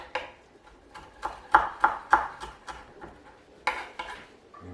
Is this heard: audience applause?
no